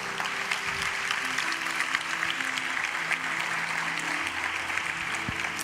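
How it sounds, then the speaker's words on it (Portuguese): A church congregation claps together during a sermon, a dense, even wash of applause that stays loud and steady throughout with no voice over it. "Você pode dar um aplauso ao Senhor?"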